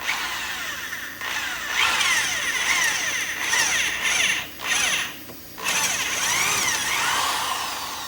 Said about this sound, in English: we have to drill the rubber out of the crossbar